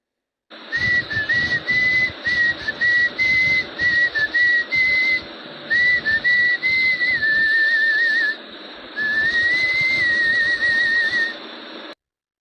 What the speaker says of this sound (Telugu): నాకు విజిల్లో పాటలు పాడటం అంటే చాలా ఇష్టం